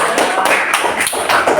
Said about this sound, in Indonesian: Saya tepuk tangan untuk kelompok